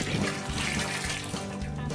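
Muriatic acid runs from a gallon jug punctured at the bottom in a steady, continuous gushing stream, close and even throughout with no speech.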